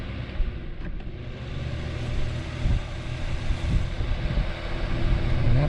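Vornado 573 fan running at its top speed setting, a steady broadband whoosh of moving air with low rumble, close and fairly loud, swelling slightly toward the end.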